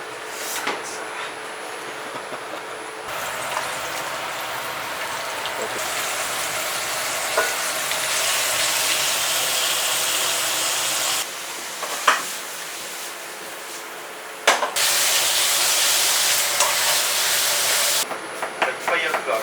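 A pot of miso chanko hotpot simmering on the stove, a steady close bubbling and hiss with brief clinks, the texture shifting in intensity across the stretch; people talk nearby at times.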